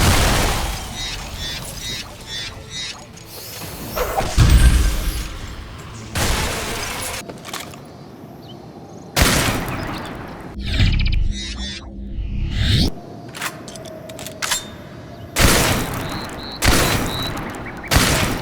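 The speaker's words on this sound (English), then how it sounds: "Always nice to see a triple barrel shotgun, and this one was fun to use." A Cerberus triple-barrel shotgun fires in a first-person shooter, with loud booming blasts repeated at intervals over about eighteen seconds, each followed by shattering and reload clatter.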